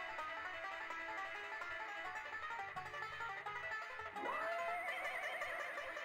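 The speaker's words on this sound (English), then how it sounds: "Is he neighing? Is that a horse noise?" A horse neighs in The Curse of Monkey Island, a rising whinny with a shaking, vibrato tail that bursts out over steady game music, loud and close.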